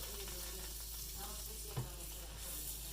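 Butter sizzles steadily in a hot pan for grilled cheese, a soft continuous crackle with one brief clunk partway through.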